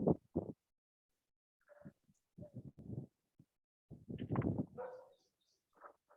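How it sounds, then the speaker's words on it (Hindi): Several dogs bark in short bursts, a few spaced yaps then a cluster of louder barks, with brief quiet gaps between. "बाहर कुत्तों के भौंकने की आवाजें भी आ रही है"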